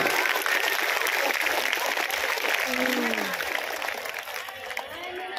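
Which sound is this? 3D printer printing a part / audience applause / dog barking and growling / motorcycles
audience applause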